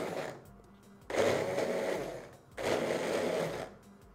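A blender whirs through ingredients for a pickled tomato salad in two loud bursts of about one and a half seconds each, separated by short pauses where only a low idle hum remains.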